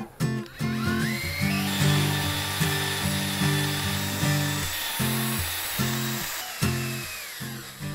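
A power drill fitted with a mixer paddle churns epoxy resin, sending out a steady, loud whirring drone whose pitch steps up and down as the trigger is pressed and released, with brief pauses between the bursts.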